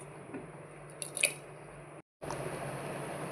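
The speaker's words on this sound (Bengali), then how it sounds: "দিয়ে এবার কেটে রাখা সবজি আর কাঁচা লঙ্কা দিয়ে দেব।" Chopped pumpkin, potato and carrot with green chilli tipped into a pressure cooker, giving a short wet squish and drip that ends in a brief silence before a steady background hiss resumes.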